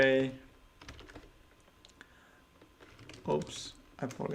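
Computer keyboard typing while coding, scattered bursts of quiet clicking keystrokes with pauses, under a man's soft speech.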